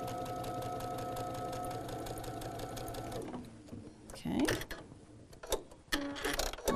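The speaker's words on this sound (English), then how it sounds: "we can stitch just diagonally right across the block" A sewing machine stitches diagonally across a quilt block in a fast, steady mechanical whir for about three seconds, then stops, followed by fabric handling and clicks while a person talks.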